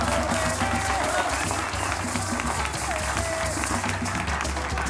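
An audience at a boxing event claps and cheers continuously in dense, sustained applause, heard loud and close, with crowd voices mixed in.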